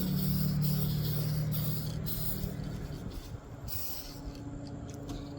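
Duplicolor anodized spray paint hissing from an aerosol can onto a Jackson JS22 guitar as a light tack coat, a steady close hiss with short pauses between bursts, wind noise outdoors.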